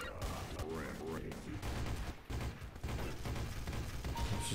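Rapid bursts of gunfire in Counter-Strike: Source crackle in a dense, chaotic mix, with a voice talking intermittently in Polish underneath.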